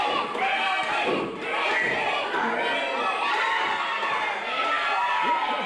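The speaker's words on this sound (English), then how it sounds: "This crowd is calling for him." A live wrestling show crowd cheers and shouts steadily throughout, a dense roar of many voices in an indoor venue with no break.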